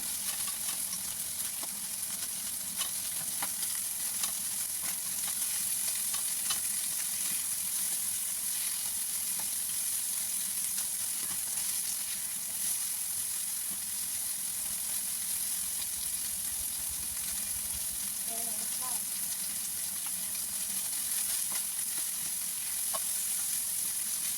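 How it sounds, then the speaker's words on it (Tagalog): Garlic and beef frying together in a pan, a steady close sizzle with a bright hiss running throughout and occasional faint stirring scrapes, no talking. "sinabay ko na yung garlic at saka ating karne sa pag-fry para magkasabay sila maging kulay brown"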